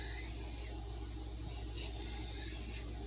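A Kershaw knife blade slides across a hard Arkansas oil stone in soft alternating strokes, a faint dry rasping that repeats at a steady pace in a quiet room.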